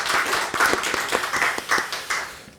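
Congregation applauding together during a church service, a dense, steady patter of many hands clapping from the pews, fairly close and continuous for a few seconds.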